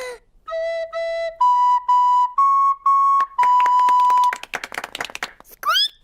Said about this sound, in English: I'm going to play the recorder.